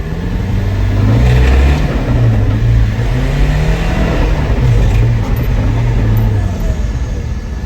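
A Ford Transit van fitted with a BMW engine pulls away on a road, its loud low engine drone rising and falling through the gears with steady road rumble, no voices.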